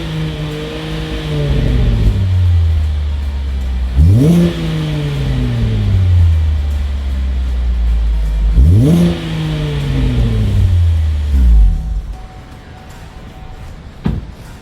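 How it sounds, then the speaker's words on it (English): A 2014 VF Commodore wagon with a 2.25 inch XForce exhaust, warmed up, revs hard three times, each rising to a loud roar and sliding back down to a rumbling idle, close by. "Okay, so I'm going to start this thing up now. Remember, it is the 2¼ inch XForce exhaust."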